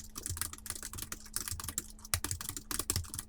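Rapid typing on a computer keyboard while entering weekday names into an Excel spreadsheet: dense, irregular bursts of crisp key clicks close to the mic, with brief pauses between keystrokes.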